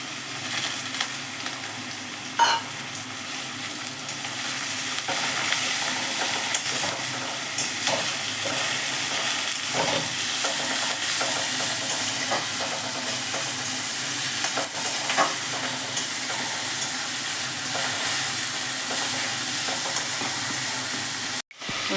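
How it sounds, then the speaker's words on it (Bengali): Shrimp frying with onion and garlic in a pan sizzles and hisses steadily and loudly for a long stretch, with occasional utensil scrapes and no talking. "পেঁয়াজ রসুনের সাথে কিছুক্ষণ চিংড়ি মাছটাকে ভেজে নিলাম।"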